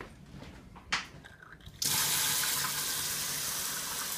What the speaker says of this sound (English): First, you want to wash your hands.